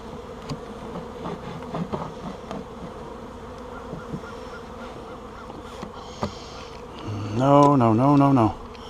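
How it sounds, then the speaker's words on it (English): A dense hum of many honey bees buzzing around, with individual insects droning past close by and a louder wavering tone near the end. "Whew, there's so many bees."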